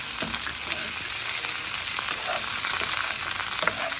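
Browned pieces of food sizzle loudly and steadily in a frying pan as they are tossed, a dense close crackle with a few faint clinks of the pan.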